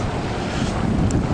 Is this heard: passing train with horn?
no